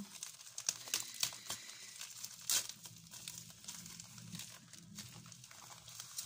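Bubble-wrap packaging from a parcel being unwrapped: quiet, irregular crinkling and rustling with sharp tearing bursts, close and soft, no talk.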